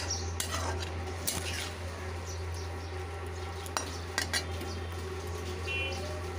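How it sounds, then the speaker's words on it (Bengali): A utensil scrapes and clinks as pointed gourd is stirred in yogurt gravy in a pan, with soft intermittent taps over a steady low hum, close and moderate in level. "এখন পটলটা দিয়ে একটু নাড়াচাড়া করে নিচ্ছি"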